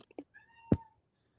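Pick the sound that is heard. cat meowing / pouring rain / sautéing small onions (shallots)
cat meowing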